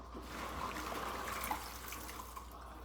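Collard greens are rinsed in a cold water bath, a quiet, continuous trickle and gentle sloshing with no talking.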